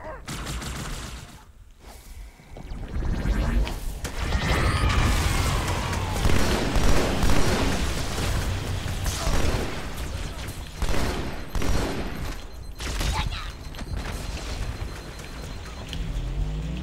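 Halo 2 gameplay with loud, dense bursts of gunfire and booming grenade blasts layered over one another, the heavy thuds and crackling fire running almost continuously from about three seconds onward.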